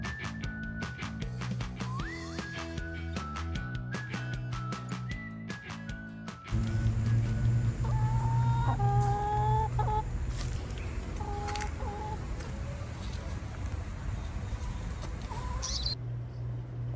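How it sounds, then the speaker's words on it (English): Chickens cluck and call near a composting area in Tulum, several birds close by amid a busy, rattling outdoor background. "The chickens kept coming towards us."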